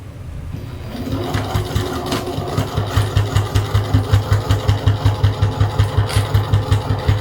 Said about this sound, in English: stitch all the way around the sides and the top